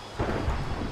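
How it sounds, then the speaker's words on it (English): Rain and thunder in the Minecraft Pixelmon game world, a low rumbling roll with a steady wash of rainfall over it, heard briefly and alone. "I don't want to hear rain."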